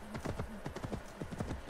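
Horse hooves clip-clopping at a steady trotting rhythm in the video game Assassin's Creed Valhalla, close and continuous over the whole stretch with no talk.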